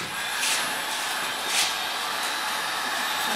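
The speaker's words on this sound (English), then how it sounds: "This is just a hairdryer." Hairdryer blowing steadily on a wire during a demonstration, a loud close continuous airy roar with slight swells in intensity and no talking.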